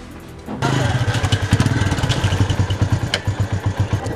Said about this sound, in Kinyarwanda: umva zimya moto